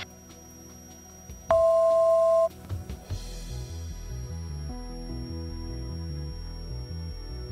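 A Garmin G3X autopilot sounds a single altitude alert tone in a small aircraft cockpit, a loud steady beep lasting about a second over constant engine drone and electronic hum, followed by fainter tonal noise.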